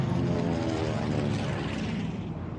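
A Pan American Clipper propeller airliner flies overhead, a loud, steady droning engine roar with throbbing low rumble that fades slightly, no voices present.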